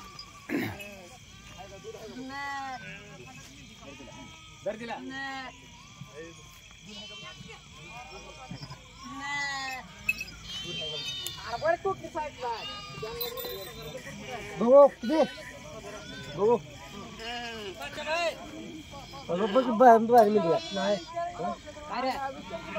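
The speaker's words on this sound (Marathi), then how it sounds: "एकंदर काजड गावामध्ये आलेला ह्या बाळूमामांच्या मेंढ्यांचा तळ" A large flock of sheep camped at a village, many overlapping bleats from near and far in a constant irregular chorus, with people talking among the animals.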